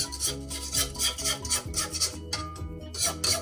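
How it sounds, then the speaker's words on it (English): A spatula scrapes around the sides of a mixing bowl of banana bread batter, making continuous close scraping and rubbing with a low rumble underneath and no voices. "we're going to scrape down our sides once again"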